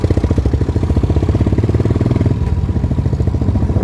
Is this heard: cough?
no